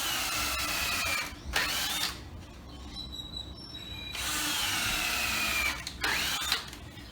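A power drill bores holes into the wooden frame of a hand-washing sink, two long whining runs separated by a quieter pause with mechanical clicks, close and steady, no speech.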